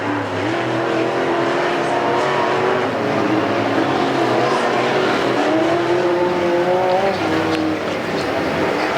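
Race cars roar continuously around a figure 8 speedway at Perris Auto Speedway during a main event, engines droning loud and close with rising and falling pitch as cars pass, without pause.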